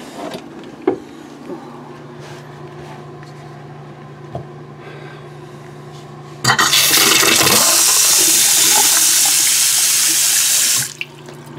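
An automatic sensor bathroom sink faucet from Modundry starts a strong, steady stream of water partway through, running loud and continuous for several seconds before cutting off abruptly, after a quiet stretch of room noise.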